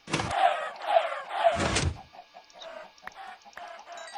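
Game-style chicken clucks from a Minecraft chicken farm, three quick close squawks in a row followed by quieter scattered clucks and soft thumps, no talking.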